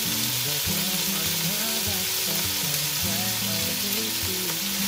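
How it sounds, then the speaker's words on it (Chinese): Chicken breast pieces pan-fry in hot oil, giving a dense, continuous sizzle throughout, with tonal background music playing underneath. "稍微抓一下就准备下锅煎咯。 一面大约煎两分钟左右"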